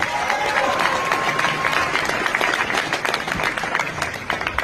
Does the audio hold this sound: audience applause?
yes